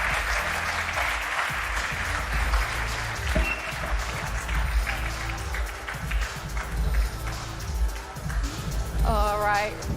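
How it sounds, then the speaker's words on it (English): Audience applause at a MotoGP-style awards ceremony for the Tissot Pole Prize winner: steady, dense clapping from a large crowd throughout, with a presenter's amplified voice partly heard beneath it. "please give a round of applause for our Tissot Pole Prize winner"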